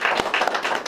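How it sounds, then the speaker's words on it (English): A studio audience applauds a mortgage-business guest on a talk show, a brief burst of steady, fairly close clapping with no talk over it. "Let's give her a hand, folks."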